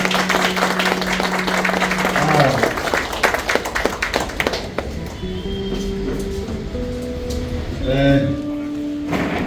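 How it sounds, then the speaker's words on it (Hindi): Clapping at a felicitation ceremony during a yearly railway track maintainers' meeting, loud at first and then thinning out, with voices and a few tonal sounds from the hall's sound system running through it. "तालियां बजती रहनी चाहिए साथ में"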